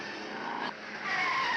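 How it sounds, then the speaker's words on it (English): A Ford Falcon and a Chrysler Charger race car dicing at Bathurst in 1971, tyres squealing and engines straining close by in a short, loud burst. "The Goss Falcon in a dice with a Charger."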